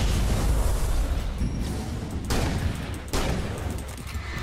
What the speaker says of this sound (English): Drop the flashbang! Drop the flashbang!